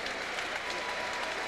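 A boxing crowd of home Ricky Hatton fans applauds Ben Tackie as he leaves the ring, a steady, even wash of clapping that runs without a break.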